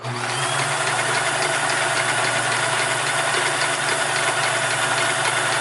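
A Sears Kenmore 158 series sewing machine stitches in a continuous, loud, even mechanical whir with no pauses and no voices.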